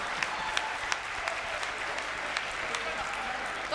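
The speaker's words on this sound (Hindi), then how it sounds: "आप सबने तालियां भी बहुत मन से बजाई" An audience at a Hindi comedy poetry gathering claps in a brisk, steady wash of applause from many hands, with occasional louder individual claps standing out.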